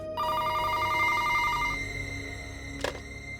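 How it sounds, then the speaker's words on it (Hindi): A telephone rings at night around 3 a.m. in a tense crime drama scene, giving a steady electronic ringing tone for under two seconds, then a brief click, heard alone without talk. "ये रात को 3 बजे किसका फोन आ सकता है?"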